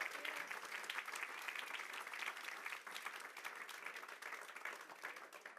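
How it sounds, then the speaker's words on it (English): A church congregation claps hands together in sustained, dense applause with rhythmic overlapping claps that continue throughout. "Come on, keep on clapping like we're on to something."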